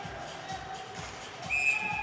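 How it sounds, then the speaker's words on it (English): A referee's whistle blows sharply near the end during a 16U AAA junior ice hockey game, piercing through a low arena crowd murmur and periodic thumps. "And we finally get a whistle to stop it."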